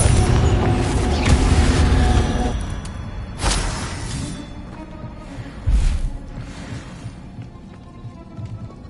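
A Confringo fire-blast spell in Hogwarts Legacy bursts with a heavy booming rumble that fades, followed by a couple of lighter whooshing impacts, loud and close.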